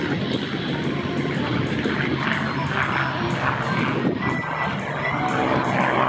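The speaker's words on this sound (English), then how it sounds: "V12. A red-tailed Mustang. C model." A red-tailed P-51C Mustang with a V12 engine and propeller roars at the Dayton airshow, its loud, steady engine drone filling the air continuously amid faint background activity.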